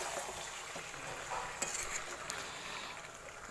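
Chicken with crushed garlic and onion stir-fried in a pan, a low steady sizzle with occasional scraping stirs and light utensil clinks, fairly quiet and close.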